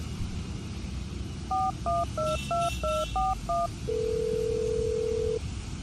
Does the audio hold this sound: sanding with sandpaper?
no